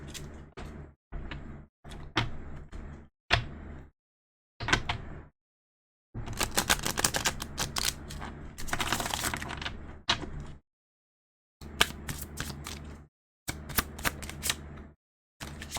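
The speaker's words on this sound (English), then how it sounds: "All right, so again, we're going to shuffle." Cards being riffle-shuffled, several quick rustling bursts separated by short pauses, then a longer flurry of shuffling and a few more bursts.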